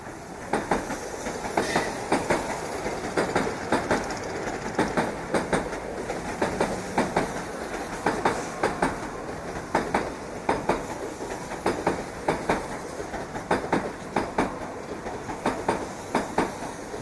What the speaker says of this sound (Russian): Значит, 10 минут шел поезд, я запомнил.